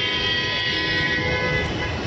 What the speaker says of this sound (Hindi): वो जा रही है मेट्रो